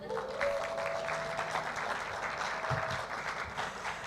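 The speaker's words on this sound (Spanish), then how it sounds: "Vamos a darle un aplauso a las mujeres" Applause from a church congregation, steady and fairly faint throughout, with a murmur of voices underneath.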